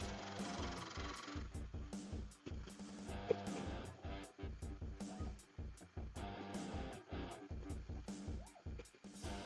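A wood lathe turns a resin bowl while the cutting tool chatters in a fast, regular series of sharp knocks over a mechanical hum, close and fairly quiet.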